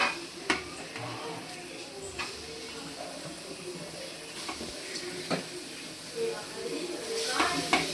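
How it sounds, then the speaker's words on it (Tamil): Chicken pieces going into a pepper masala in a pot, a moderate frying sizzle with intermittent spoon knocks and stirring scrapes, some faint talk in the background. "இப்போ சிக்கன் போட்டுக்கலாம்."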